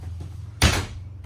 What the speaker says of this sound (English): I want to close this door to understand what does mean privacy